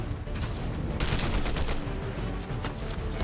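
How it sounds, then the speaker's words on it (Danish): Rapid bursts of gunfire in a Fortnite match, dense and continuous popping shots throughout the short stretch with no talking. "Og der er skud henne."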